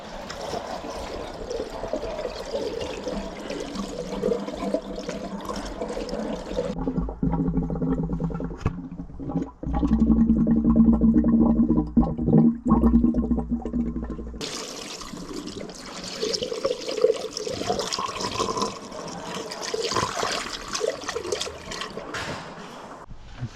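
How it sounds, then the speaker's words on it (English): Coolant siphoned through a hose trickles and pours steadily into a Duramax cooling system, a continuous liquid flow that thickens midway and eases off again, close up with no talking. "I've just been using that hose to siphon out of there and put it into here"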